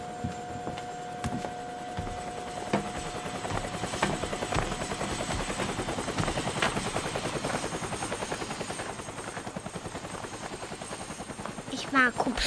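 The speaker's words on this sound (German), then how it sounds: "Hubschrauber." A helicopter's rotor beats in a rapid, steady chop with a constant whine, heard from inside over the whole stretch, with faint rattles and clicks.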